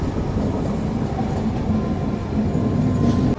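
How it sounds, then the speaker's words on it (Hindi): The Pushpak Express from Mumbai to Lucknow runs alongside on a parallel track at night, a steady loud rumble of wheels and carriages with faint rhythmic clatter and a thin tonal whine throughout. "तो जिस ट्रेन के साथ एक छोटा सा पैरेलल देखने को मिला वो थी पुष्पक एक्सप्रेस, जो कि मुंबई से लखनऊ के लिए जा रही थी।"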